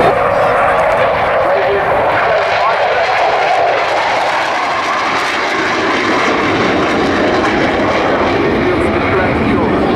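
A loud aircraft engine, the starboard engine, roars steadily throughout at an airshow, a broad sustained drone with a whining edge, close and unbroken.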